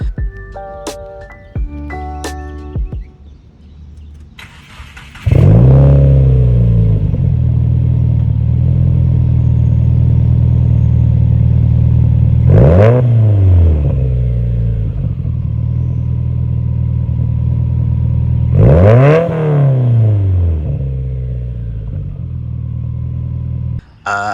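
A 2020 Subaru WRX with the FA20 engine and aftermarket exhaust starts up with a loud burst, then idles in a deep burble and revs sharply three times, each rise and fall spaced several seconds apart, close and loud.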